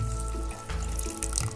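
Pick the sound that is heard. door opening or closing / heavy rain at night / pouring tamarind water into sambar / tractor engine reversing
pouring tamarind water into sambar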